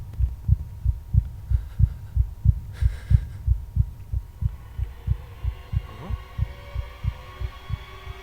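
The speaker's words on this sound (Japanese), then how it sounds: "この心臓音やばい。" A steady, thumping heartbeat from the horror video game Devilry pulses about twice a second, loud and low, with faint ambient hum and a brief sweep of eerie noise partway through.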